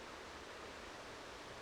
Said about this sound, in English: All you can hear is this rushing water.